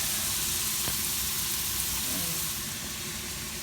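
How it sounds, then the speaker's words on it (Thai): Meat stir-frying in a hot pan for lasagne: a loud, continuous close sizzle with a steady hiss and occasional small scraping stirs, heard without any talking. "ค่อยเอาเนื้อลงนะคะ เนื้อลงผัด"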